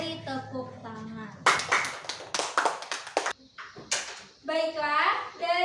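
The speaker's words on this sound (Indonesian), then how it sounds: "Beri tepuk tangan." A classroom of students claps for a group's work in an Indonesian lesson, several bursts of brisk clapping between stretches of speech, with children's voices heard before and after.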